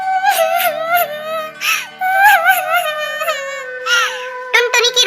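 Cartoon bird Tuntuni crying in a Hindi animated story, a high, warbling cartoon voice wailing and sobbing in drawn-out bursts over soft background music.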